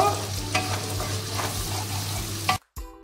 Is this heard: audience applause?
no